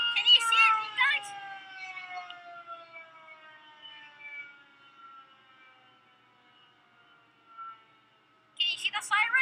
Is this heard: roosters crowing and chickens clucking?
no